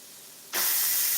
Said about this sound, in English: So we're gonna go ahead and press the steam release.